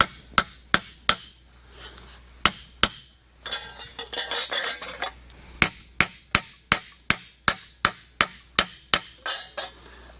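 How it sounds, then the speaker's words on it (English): Hammering metal flat on the back of a vise used as an anvil during repair of a Coleman 500a, sharp ringing blows, a few spaced strikes, then a scraping pause, then a steady run of about a dozen rhythmic hits. "we're going to use the back of the vise here as my anvil, and we're just going to go ahead and try to flatten around these screw holes"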